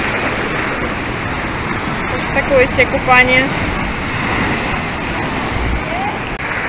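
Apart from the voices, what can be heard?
ocean waves crashing at Tenerife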